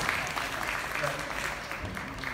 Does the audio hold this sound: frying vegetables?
no